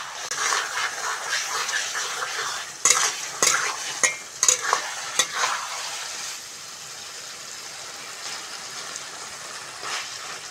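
Spices for a Bengali-style doi potol (pointed gourd curry) fry and sizzle in a pan while a utensil stirs and scrapes in quick bursts, then the sizzling settles into a steady, close hiss.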